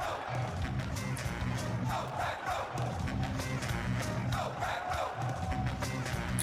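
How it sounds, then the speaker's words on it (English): Large NFL draft crowd of Packers fans in Green Bay cheering and roaring continuously, a dense, loud wall of voices with swelling shouts and whoops throughout. "Listen to this crowd."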